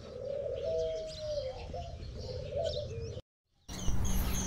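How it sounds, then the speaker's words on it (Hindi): Rare-breed pigeons in cages cooing close by, a series of soft repeated coos with a few chirps before a brief gap, then more bird calls. "ये फर्स्ट जो बॉक्स है इसमें बड़े नस्ली किस्म के कबूतर हैं इनके, बड़े रेयर किस्म के"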